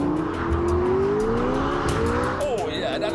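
A McLaren car accelerates hard out of a corner, its engine note climbing steadily and loudly with tire noise and road rumble beneath, heard from inside the car.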